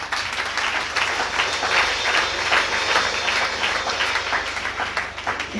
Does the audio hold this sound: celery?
no